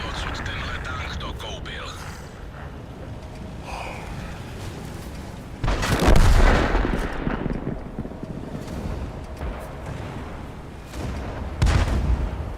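Artillery shells in a tank battle video game land with heavy low booms, two strong blasts several seconds apart over a steady rumble of engine and wind noise.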